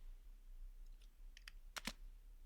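A few faint keyboard key presses click in sparse, irregular succession, ending with two sharper taps close together.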